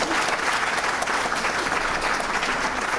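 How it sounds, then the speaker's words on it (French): An audience at a French entrepreneurship event claps loudly and continuously, with dense, even applause filling the whole moment and no speech over it. "On peut applaudir très fort."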